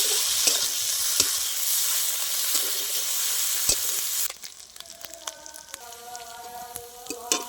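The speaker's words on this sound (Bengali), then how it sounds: "আদা রসুন বাটা দিয়ে দিচ্ছি এবার খুব ভালো করে নেড়ে ছেড়ে নেবো যাতে আদা রসুনের কাঁচা গন্ধটা কেটে যায়" Onions frying with ginger garlic paste in a pan, a loud bright sizzle broken by scraping stirs, then quieter scattered crackles and clinks of the spoon once the sizzle drops off.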